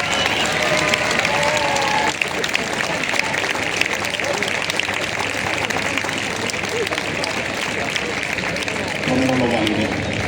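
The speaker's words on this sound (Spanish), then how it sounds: "Un aplauso." A crowd at a Spanish town festival proclamation applauds steadily for several seconds, a dense wash of clapping that holds at an even level before thinning near the end.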